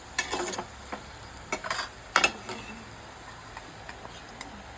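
A spoon stirs chicken masala in a pan, making a few short, scattered scrapes and clicks over a faint background sizzle; the sounds are brief and sparse, with quiet gaps between them.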